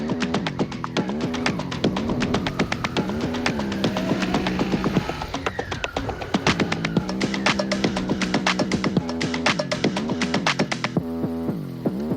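A motorcycle engine throbs and revs up and down continuously while riding, with rapid pulsing putter and shifting pitch as the throttle changes.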